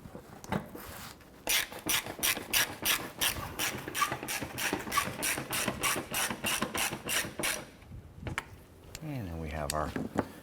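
Hand ratchet snugging down knock sensor screws on a 2006-2013 Chevrolet Impala engine, a rapid run of close, sharp clicks in steady bursts, pausing briefly before a final short series.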